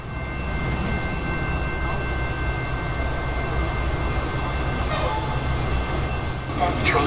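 Rail track maintenance machines roll along the center track at a busy suburban station, a continuous loud rumble with steady tonal whines, and a sharper clatter near the end.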